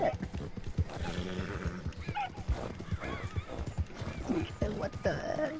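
A video game horse gallops with quick, close clip-clop hoofbeats and occasional whinnies, running under a player's excited talking.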